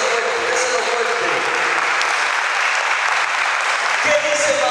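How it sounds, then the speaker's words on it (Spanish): A church congregation applauds loudly, a dense, sustained wash of clapping from many hands that continues steadily throughout, with a voice briefly audible near the end. "Vamos a dar un fuerte aplauso al Señor."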